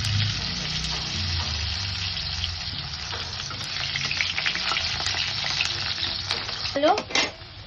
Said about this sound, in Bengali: আলুটা একটু ভেজে নিই।